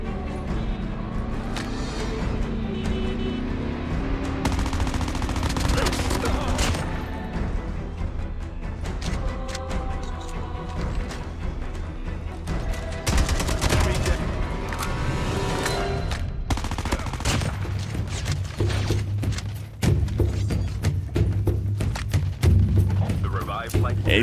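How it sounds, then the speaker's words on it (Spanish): Sniper rifle fire in the mobile shooter game Call of Duty Mobile, scattered booming shots mixed into dense continuous game sound and music, with a voice talking over much of it. "puedo escuchar disparos de francotiradores en distintos puntos"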